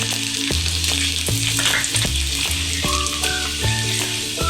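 Asafoetida and garlic sizzle in hot oil for tanjariya bhaji, a steady loud frying hiss with clattering stirs and knocks of a utensil against the pan throughout.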